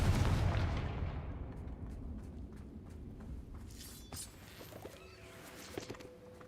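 A Confringo fire-blast spell explodes in the Hogwarts Legacy video game, with a loud, rumbling burst that fades into a long, crackling decay.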